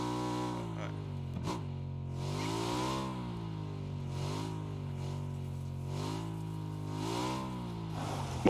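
A vehicle engine in the PUBG video game drives along a road, its pitch rising and falling steadily with throttle changes, loud and close throughout the clip.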